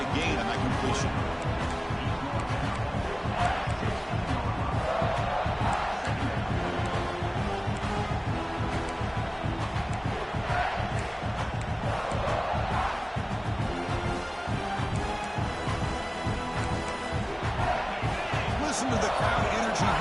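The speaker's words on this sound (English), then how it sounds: "crowd energy here in the early going" A stadium crowd at a football game roars and cheers steadily throughout, a dense, loud wash of voices with rising swells of shouting.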